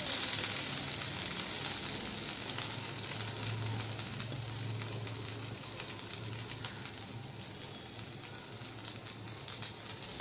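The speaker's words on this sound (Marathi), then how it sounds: "आता हा किसलेला नारळ 2 वाट्या घेतला आहे आणि तो पॅन मध्ये घालूया." Two cups of grated coconut roasting in a pan give off a steady, soft sizzle and light frying crackle, fairly quiet and continuous with no voices.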